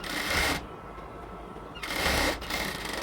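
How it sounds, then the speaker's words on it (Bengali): A sewing machine double-stitching a baby palazzo, running in two fast whirring bursts separated by a short quiet pause, close and clear with no talk. "এরপর আমরা হচ্ছে আরেকটা ডাবল সেলাই দিয়ে নেব।"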